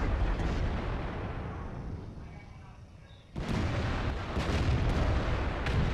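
Tank explosions and gunfire rage in a tank battle video game, a loud boom decaying into rumble, then a second heavy blast followed by further bursts of fire, with a voice talking faintly underneath.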